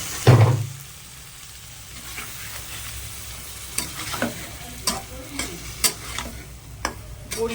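Eggplant and bori fry in a pan with spices, a soft sizzle running underneath while a utensil scrapes and stirs in irregular clicks and scrapes, close and fairly quiet, with no talking.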